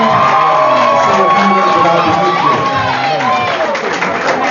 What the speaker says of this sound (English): Please give a big round of applause as Pastor Taylor comes into the front.